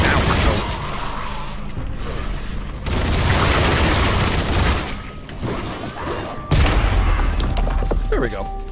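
A grenade launcher firing in a video game demo against big enemies, loud repeated booming thuds and blasts in a dense barrage, with bursts of gunfire and rumbling explosions running throughout.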